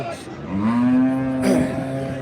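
A single long, loud moo from a nearby black cow at the Dhanaula livestock market, rising then holding steady before trailing off.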